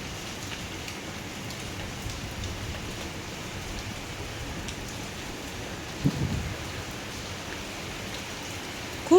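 Heavy rain falls steadily outside a house as a broad, continuous hiss with no talking, and a couple of brief louder bumps break through near the middle and at the very end.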